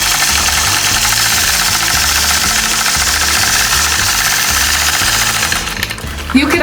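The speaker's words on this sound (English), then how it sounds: "So I'll engage my machine, use gentle pressure, and stitch right back to where I started." A quilting machine stitching along a ruler, a loud rapid mechanical rattle and hum that runs steadily at close range, then slows and stops near the end.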